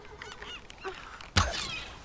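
A seagull on a beach in the video game Tomb Raider lets out one sudden, loud, harsh squawk that cuts through soft ambient noise and a few faint earlier cries.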